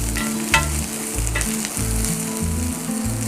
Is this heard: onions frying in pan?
yes